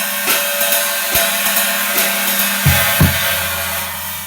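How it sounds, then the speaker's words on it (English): A Wuhan China cymbal is played in a rhythmic pattern of sharp, trashy metallic hits over a sustained shimmering wash, with a heavier accent near the end. "The Wuhan doesn't have the swish knocker sound."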